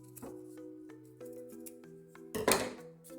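Small scissors snip around the corners of a strip of 2-inch kinesio tape, a few quiet, sharp cuts against a faint humming background, with one louder rustle of tape near the end.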